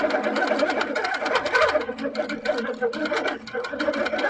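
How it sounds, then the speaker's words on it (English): A sewing machine stitches slowly at a steady, even pace with a continuous mechanical whirr and rapid ticking, while a person talks over it. "I can press start and it'll start sewing slowly."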